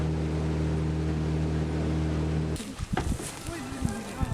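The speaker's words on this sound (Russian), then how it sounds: "С Покровска на моторке переправляют на тот берег за 250 рублей с человека." Outboard motorboat ferrying people across a river from Pokrovsk in Yakutia: a steady close engine drone for about two and a half seconds, then it cuts to a busier wash of water and hull sounds with voices talking.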